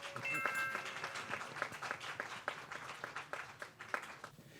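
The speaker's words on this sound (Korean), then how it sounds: "박수로 맞아주시기 바랍니다." An indoor audience at a high school mock civil trial competition applauds to welcome the final team, a moderate patter of clapping that fades over a few seconds, with a voice briefly audible.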